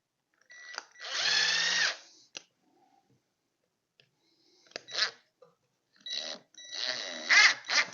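A power drill countersinks a screw hole in wood while a kids' wooden airplane rocker is assembled: a close whirring burst of about a second, a short pause, then two more drilling bursts toward the end, with no talk.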